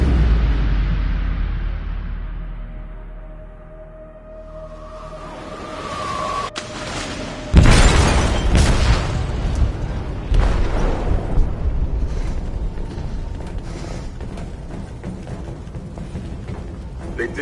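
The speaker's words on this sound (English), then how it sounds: "They detonated an explosive in the hold." An explosive detonates in a ship's hold in the game Detroit: Become Human, a sudden loud boom that gives way to a long rumbling roar and scattered crashes, with voices shouting faintly amid the chaos.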